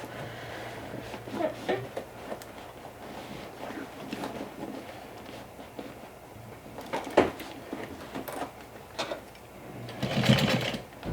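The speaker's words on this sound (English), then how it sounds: "the pretty rainbow thread to be on the outside, I'm going to top stitch like this" A sewing machine top-stitches vinyl with rainbow thread, its motor whirring in uneven runs and short bursts, close and moderately loud, with a louder stretch near the end.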